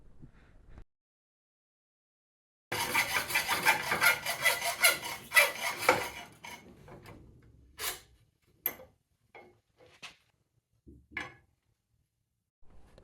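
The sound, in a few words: cutting a two-stroke engine's top crankcase in half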